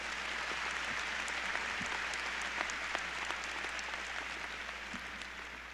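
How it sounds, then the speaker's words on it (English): Steady applause from a large crowd at a university commencement ceremony fills the hall, a dense even wash of clapping held at a fairly constant level before easing slightly at the end. "let's give her a round of applause in absentia."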